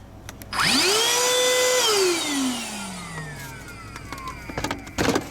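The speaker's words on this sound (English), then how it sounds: "This little vacuum." A small handheld vacuum cleaner whines up sharply, runs with a high motor tone, then winds down as it switches off, close and loud, with clicks and handling noise afterward.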